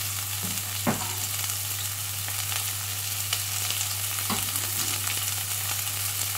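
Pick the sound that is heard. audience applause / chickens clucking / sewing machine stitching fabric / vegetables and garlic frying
vegetables and garlic frying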